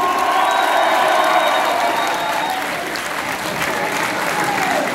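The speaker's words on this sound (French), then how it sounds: "on peut l'applaudir encore" A concert crowd at a small French venue applauds and cheers for a metal band, thick sustained clapping with shouts and whoops rising over it, loud and continuous, with a whistle-like tone early on.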